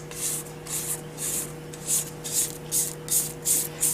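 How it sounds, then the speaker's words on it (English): A spatula scrapes the sides of a cake-batter mixing bowl in rhythmic strokes, about ten at a steady pace, a close, dry rasp over a faint constant hum. "I'm going to just use a spatula and I'm going to scrape off the sides."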